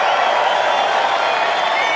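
A large rally crowd at a Donald Trump event in Butler, Pennsylvania cheering, a dense, steady roar of many voices filling the space without pause, loud and continuous.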